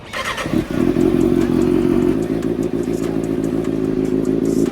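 A Kawasaki ZX-6R motorcycle engine cranks and catches, then settles into a steady, loud, rumbling idle in neutral close by with no one talking.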